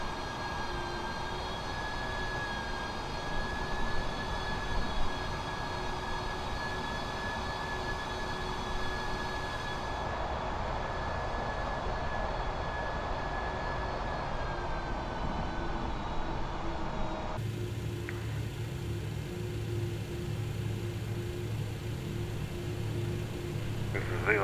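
TFDi Design MD-11 airliner taxiing in Microsoft Flight Simulator, with a steady whining jet engine hum and a constant high tonal drone. The mix shifts partway through to a deeper, rumbling cabin tone, continuous and moderately loud, with no talk.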